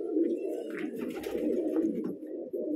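Pigeons in a fancier's loft in Bijnor, Uttar Pradesh, coo continuously in a deep, rolling drone, close by, with brief rustles and a soft knock near the end.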